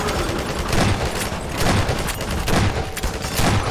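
Heavy automatic gunfire in Half-Life 2, with dense rapid bursts and loud booming shots repeating steadily across the whole stretch.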